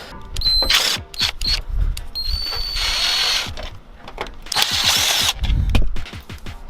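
A power drill removing headlight bolts on a Jeep Wrangler TJ whirs in several short bursts with pauses between, high whining spins alongside small clicks and knocks of handling nearby.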